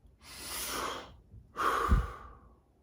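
A single deep breath taken during a breathing technique: a long airy inhale followed by a slightly louder exhale, close and quiet with no talk.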